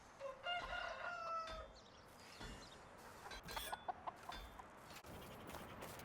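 Chicken in the medieval village of Medieval Dynasty: a rooster crows once near the start, followed by scattered clucks and short calls, faint and close, with no talk.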